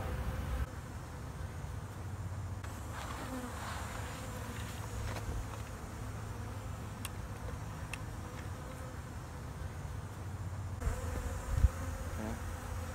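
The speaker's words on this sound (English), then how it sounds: "So I see a decent amount of brood, some larva, and I see some emerging bees" Honey bees buzzing on a frame of brood pulled from a hive, a low, steady droning hum from many bees nearby, faint and continuous with occasional handling noises and no talking.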